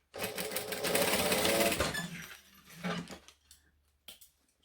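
Sewing machine stitching down a bag strap around the inner bar, a loud steady run of close stitching that stops partway, followed by a few faint handling clicks and rustles.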